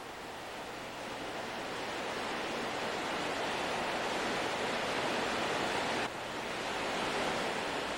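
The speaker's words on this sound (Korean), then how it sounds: "넋을 잃을 정도의 아름다운 폭포가 나타났다" A powerful waterfall about 6 m high roars continuously inside a cave, falling into a cave pool, a dense, broadband rush of falling water echoing steadily without pause.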